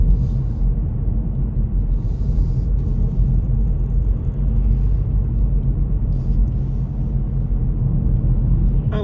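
Steady car engine note cruising in third gear on a Newtownards road, a continuous low rumble with road noise, close and even throughout, with no voices.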